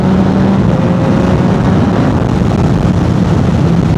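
Triumph Tiger 800 motorcycle engine running steadily while riding, a continuous low rumble with a faint whine, loud and close throughout with no talking.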